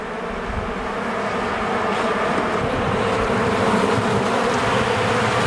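Honeybees buzz steadily in a dense swarm-like drone during a springtime beehive inspection, the hum close and continuous with no talking.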